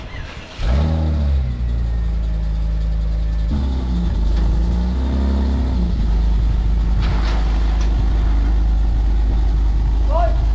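A Karosa bus's turbocharged engine runs steadily with a deep, loud rumble close by, rising briefly in revs, while people talk over it.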